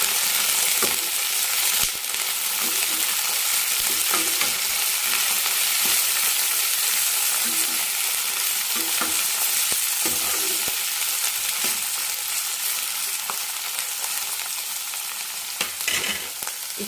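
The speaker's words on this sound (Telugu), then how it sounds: "కొద్దిసేపు మగ్గనిద్దాం వంకాయ." Brinjal cooking in a pan for a chutney, giving a steady, close sizzle and frying crackle with occasional stirring scrapes, continuous throughout with no talk.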